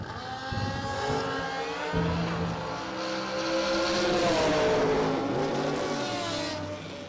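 Drag racing cars, one of them a Hayabusa, launching off the line at a season kick-off event: loud high-revving engines screaming and rising in pitch, several overlapping, sustained and close throughout.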